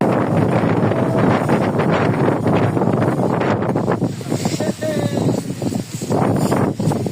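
Strong wind roars and buffets the microphone in continuous gusts, with muffled voices faintly underneath.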